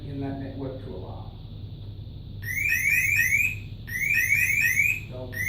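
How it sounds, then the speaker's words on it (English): Networked alarm units set off together during a communication test give repeated bursts of rapid rising electronic chirps in two groups, following a person speaking. "If you hit the test, what it'll do is it'll cause every unit in that network to alarm."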